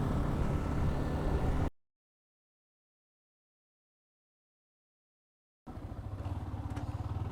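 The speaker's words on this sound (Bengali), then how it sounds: "আমরা বাইক নিয়ে ভিতরে যাচ্ছি" A motorbike rides in to Mohamaya Lake, its engine a steady, loud rumble. The sound cuts out abruptly into silence, then the engine returns with a pulsing idle.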